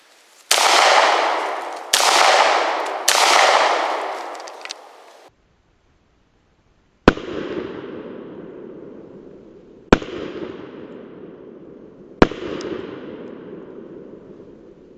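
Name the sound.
handgun shots into concrete block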